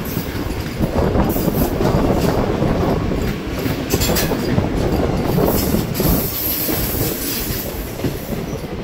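A Vande Bharat Express runs loud and close on a long curve, with continuous rolling rail noise and faint clickety-clack under high wheel squeal, and no voices.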